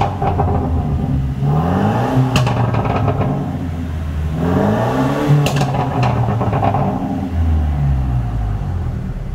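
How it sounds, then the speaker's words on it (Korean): A 20-year-old Mercedes-Benz C200 with a tuned exhaust revs hard several times, deep rumbling exhaust rising and falling in loud surges, with crackling pops between revs and no talking. "배기 소리가 기가 막힙니다"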